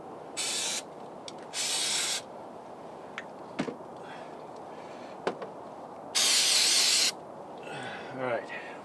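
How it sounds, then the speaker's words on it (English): Throttle body cleaner is sprayed onto the throttle body of a GM Camaro with a 3.8 engine, in three loud hissing bursts of about half a second to a second each, close by, with someone talking between them. "Throttle body cleaner, that's the only kind to use."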